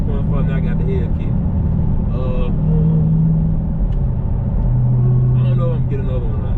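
A Dodge Challenger Hellcat's engine rumbles low and steady from inside the cabin while driving, the drone continuing under a voice as he talks throughout.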